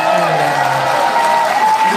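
A crowd in a National Assembly conference hall at a political event claps steadily and loudly for a couple of seconds, dense applause with a faint voice carrying above it.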